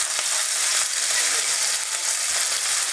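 Hot oil sizzles and crackles steadily in a pan of meat sauce being cooked, a close, dense frying hiss with no pauses.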